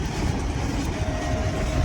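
A long freight train hauling rice rolls past close by on the rails, a steady, loud continuous rumble and rattle of wagons filling the whole moment with no voices.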